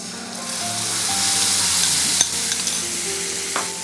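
Spice water poured into a hot tempering of cumin, cloves and chillies for dal, a loud surging sizzle that settles into steady frying with scraping stirs and a few clinks, no talking.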